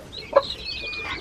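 A backyard flock of chickens including silkies and a cuckoo Maran, one brief, close cluck standing out over soft background chatter from the birds.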